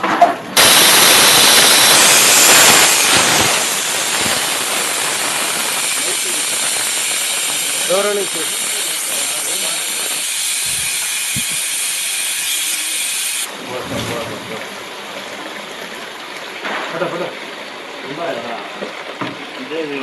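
Gas leaks from a domestic geyser with a loud, continuous hiss for about thirteen seconds before it cuts off, leaving quieter room sound; voices talk intermittently.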